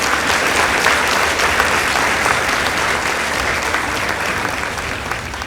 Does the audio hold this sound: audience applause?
yes